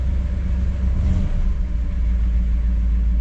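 A 1959 Chevy Bel Air's engine runs with a deep, steady low rumble, heard from inside the car at a constant loud level with no voices.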